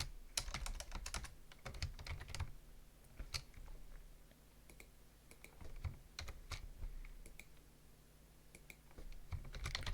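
Quiet, close typing on a new PC's computer keyboard, irregular bursts of sharp key clicks and clacks with brief pauses, no talk.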